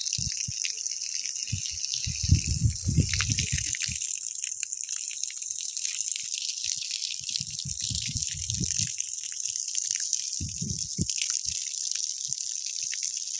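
Water spraying onto a dusty bike, a continuous close hissing spray with intermittent low splashing and rattling bursts as the stream hits the frame.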